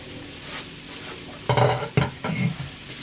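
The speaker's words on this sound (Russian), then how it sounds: "Процесс изготовления картошки жареной заканчивается." Potatoes fry in a pan at the end of cooking, a low steady sizzle with a few sharp stirring scrapes and clatters in the second half, close by and without speech.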